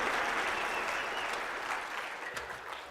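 Audience applause at a political speech event, steady sustained clapping from a crowd that gradually tapers off over a few seconds.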